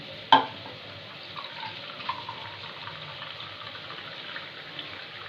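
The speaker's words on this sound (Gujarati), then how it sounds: "હવે નાખશું થોડું પાણી" A short knock, then a steady, fairly quiet sizzling hiss as water hits a hot pan of tempered spices for a rice dish. No voices.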